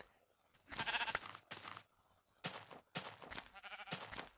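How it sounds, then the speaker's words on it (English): Several sheep bleat in Minecraft, a series of distinct bleats spaced across a few seconds, fairly close and with no talk over them. "Oh, there's lots of sheep."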